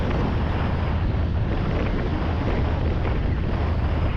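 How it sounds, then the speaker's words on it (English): Desert wind blowing sand across an asphalt road in Tunisia during a motorcycle trip, a loud, steady roar of wind buffeting the microphone throughout, with no other distinct sounds standing out. "The sand blown by the wind takes over the asphalt,"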